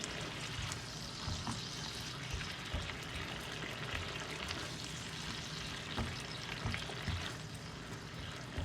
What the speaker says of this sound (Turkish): Karabiber atıyorum. Karıştırıyorum.